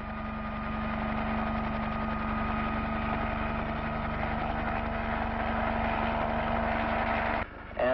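A steady, droning aircraft engine hums continuously, with a sudden change in tone near the end; planes and helicopters delivering aid after the 1970 Peru earthquake.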